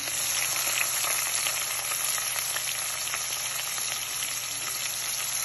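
Onions and green chillies sizzle steadily in hot oil in a pan for a prawn curry, a dense, even frying hiss that stays loud and close throughout with no talking.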